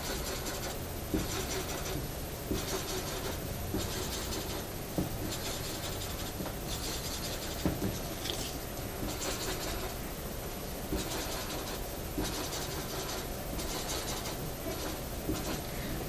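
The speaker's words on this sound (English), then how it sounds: "you're going to draw little dots with your marker and then you're going to fill them in" A marker scratches steadily across paper, drawing small circles and filling them in with rapid back-and-forth strokes in repeated bursts, close and quiet throughout.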